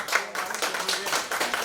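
A university class claps after a group presentation, a short burst of scattered, fairly quiet hand claps from a small group of students.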